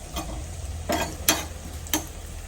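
Cumin seeds roasting in ghee, heard as a soft, low sizzle with three or four brief scraping stir strokes spaced about half a second apart. No voices.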